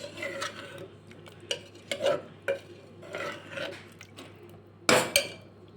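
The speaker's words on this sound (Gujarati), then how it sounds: "હવે આપણે બધું જ મિક્સ કરી દઈશું" Kathiyawadi-style guvar dhokli curry stirred in a pan, a spoon scraping and clinking against metal in uneven strokes over several seconds, ending with one louder clatter, no talking.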